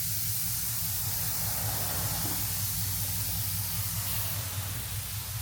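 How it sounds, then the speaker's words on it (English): Steady hiss of air from the diverter valve on a turbocharged Stage 2 tuned MK7 VW GTI, sustained and fairly close over a low engine rumble, with no talking. "You hear the diverter valve like that."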